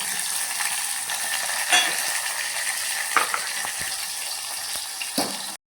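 Curry leaves and onion frying in hot oil, a bright continuous sizzle up close with a few clinks and stirs, then cutting off abruptly.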